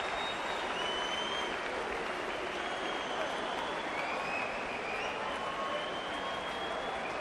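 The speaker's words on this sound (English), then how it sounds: "Gavin Rees and Gary Buckland, soak up that applause" A boxing arena crowd applauds after the final round of the Gavin Rees versus Gary Buckland fight, steady sustained clapping that fills the whole stretch, heard from a distance without commentary.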